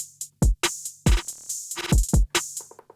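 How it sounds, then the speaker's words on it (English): Rolling open hi-hat pattern with a grainy effect, programmed on an MPC using Flex Beat for a Southside-type beat, with crisp bright hats pulsing over punchy kicks and a low bass tone, ending in a quick stuttering roll. "So grain hat sounds something like this."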